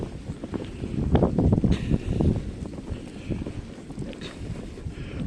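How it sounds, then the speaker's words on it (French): Cold wind gusts past the microphone near a river, a low rushing roar that swells and fades unevenly, loudest around the middle, with no talking. "You hear that wind brushing about."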